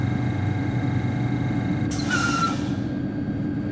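A sharp burst of air brake hiss comes from a Talent 2 electric train on the Dresden S-Bahn in Train Sim World 2, cutting in over the low cab rumble and fading after about a second.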